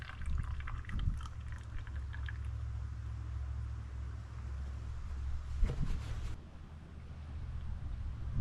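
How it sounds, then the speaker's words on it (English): Old engine oil drained from a 2019 Ford Explorer glugs and trickles into a container, a low steady pour close by with a few sloshing bursts near the end. "I'm going to pour it in my new old container"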